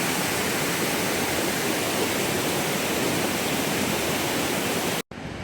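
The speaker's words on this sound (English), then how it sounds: "we're at the MAMEYES stream, MAMEYES River, which is part of the Luquillo Critical Zone Observatory" Steady rushing flow of the Mameyes River stream in Puerto Rico's Luquillo mountains, a dense, continuous broadband wash of water close by, running unbroken until a brief cut near the end.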